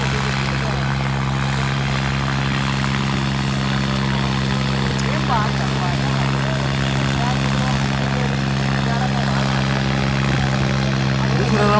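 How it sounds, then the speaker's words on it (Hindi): A Sonalika 745 tractor engine runs continuously through a performance round, a loud, steady droning hum with strong low tones and no break across the stretch. "दूसरा राउंड लेके चल रहा ट्रैक्टर"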